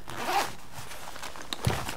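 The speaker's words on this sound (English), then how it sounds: "which gets you to your zipper." A zipper on Empire 2016 Prevail F6 paintball pants is pulled open in one quick rasping run at close range, followed by a few small fabric clicks and rustles, with no talk over it.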